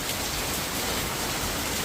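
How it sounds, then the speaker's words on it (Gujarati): Heavy rain pours down outdoors in a hard, dense, unbroken roar of drops pounding on surfaces. It stays loud and steady throughout, and no voices are heard. "ભૂક્કા બોલાવી દે એવો વરસાદ ચાલુ થઈ ગયો છે."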